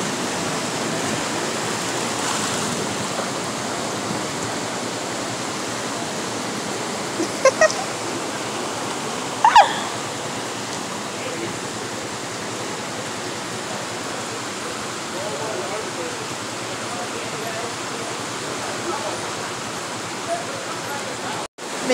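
A swollen river rushes steadily in Mao after hours of heavy rain, a loud unbroken roar lasting over twenty seconds, with a few faint knocks and brief voices in the background.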